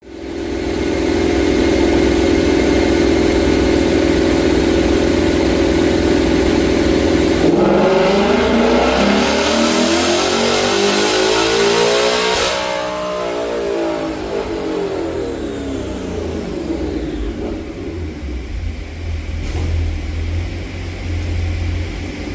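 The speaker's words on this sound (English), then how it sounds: "we just made a follow-up dyno pull" A 2024 Mustang GT V8 on a dyno with Kooks long tube headers, revving hard at steady high pitch for several seconds, then sweeping down and back through the rev range, loud and close with no talking.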